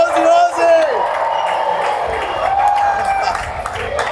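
A race-day crowd at a motorsport event roars and cheers in a continuous wash of noise, with a commentator talking excitedly over it throughout.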